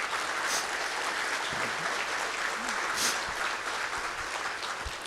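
Loud, sustained applause for sponsors from a large crowd at the 2023 Texas GIS Forum opening, a steady wash of clapping that continues for the whole stretch.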